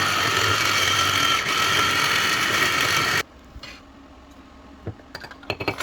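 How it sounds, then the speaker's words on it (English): Blender running loud and steady as it purees chutney ingredients with a little water, then cutting off abruptly, followed by quieter clinks and handling sounds. "Now my mum is going to be putting everything in a blender and add a little bit of water."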